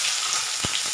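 Onion frying in hot oil for a home-cooked Odia vegetable curry gives a steady, close, bright sizzle, with one brief low thump near the end.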